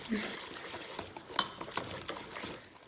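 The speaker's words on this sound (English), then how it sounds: "now you whisk it up" A whisk works through pastry cream mixture in a pot, giving faint, irregular scraping and light clinking strokes against the pot with soft kitchen background.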